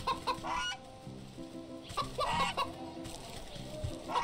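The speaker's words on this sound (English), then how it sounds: "There's this goose here, which I guess I should go ahead and try to get rid of with the digestive tablets." A goose honks repeatedly in the video game Wytchwood, a run of clucking, fowl-like calls over light game music, close and fairly loud with short pauses between bursts.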